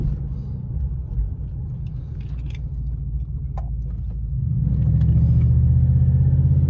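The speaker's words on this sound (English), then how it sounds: "little harder to hear over my exhaust system since I have a muffler delete system" A 2000 Cadillac DeVille with a muffler-delete exhaust rumbles steadily while driving, the deep exhaust drone swelling louder as the car accelerates near the end, heard from inside the cabin with no talking.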